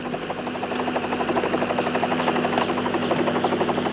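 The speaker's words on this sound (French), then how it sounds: "On dirait un moteur. C'est un avion." An aircraft engine drones overhead in a steady, pulsing hum that holds for several seconds at moderate loudness, with no voices.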